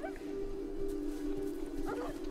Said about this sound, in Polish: Tylko sobie tak myślę, czy te psy nas zaatakują.